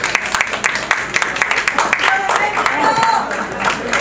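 Audience applause at a Latin awards ceremony as a plaque is presented, with distinct claps starting sparse and building into steady applause over four seconds, and voices heard alongside.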